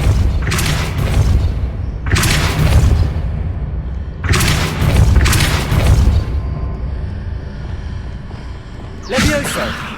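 The Depulso spell effect in Hogwarts Legacy gameplay lands as a few loud, heavy booming blasts spaced a couple of seconds apart, with a sharp burst at the very end.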